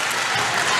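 Crowd applause fills a high school boys' varsity basketball gym late in the fourth quarter of a close game, a dense, steady wash of clapping from the stands, loud and continuous with no individual claps standing out.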